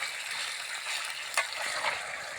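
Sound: stirring and frying country chicken over a wood-fired stove

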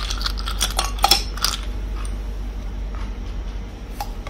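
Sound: ice cubes added to a glass

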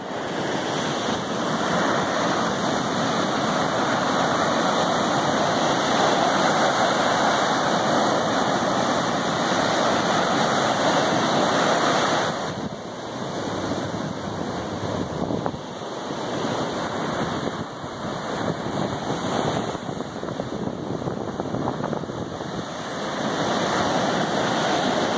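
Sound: ocean waves at Mullaitivu beach, Sri Lanka

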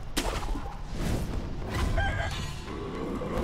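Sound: chicken clucking and crowing in Sekiro Shadows Die Twice video game

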